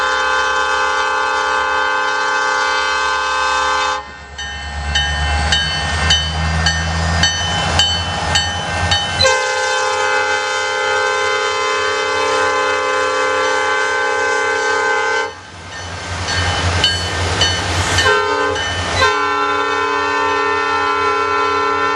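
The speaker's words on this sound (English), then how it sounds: "We get to hear the lovely P5 horn and these classic EMDs throttle up." Classic EMD diesel locomotives on BNSF, sounding a loud, sustained P5 multi-chime horn in two long blasts while the engines throttle up with a deep rumbling drone underneath, close and steady throughout.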